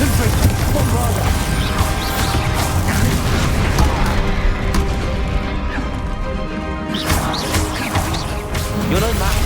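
Confringo and Bombarda spell blasts in the video game Hogwarts Legacy, dense loud booms and crashes stacked over continuous battle noise and music, with a short lull before another burst.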